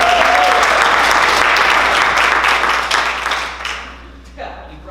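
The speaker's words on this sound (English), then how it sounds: "Give them a big round of applause." A theatre audience at a student improv class show breaks into loud, dense applause that holds steady for several seconds, then thins and fades out near the end, with voices faintly mixed in.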